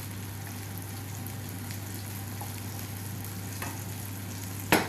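A spoonful of tomato paste frying in a little oil, a faint, even sizzle under a low steady hum, with a brief louder clatter right at the end.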